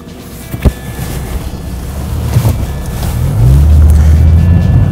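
A car driving around a roundabout during a skid pad test, heard from inside with a low engine rumble and road noise building steadily to a louder, heavier drone near the end, plus a few bumps and no voices.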